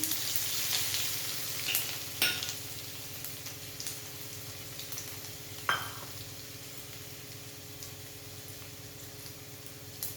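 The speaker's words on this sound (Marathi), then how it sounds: "यातच थोडासा हिंग आणि लसूण बारीक चिरून घेतलेला तो यामध्ये टाकायचा" Asafoetida and finely chopped garlic sizzle in hot tempering oil for fenugreek dal, a steady crackling hiss with a few sharp spatters and clicks of a spoon, close by and with no voices.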